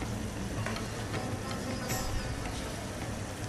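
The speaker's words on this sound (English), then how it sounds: "So now we're cooking the meat." Steak cooking in a pan for Steak Diane, a steady, moderately quiet frying sizzle with faint ticks and stirring, with no talk over it.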